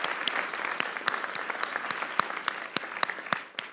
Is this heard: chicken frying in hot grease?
no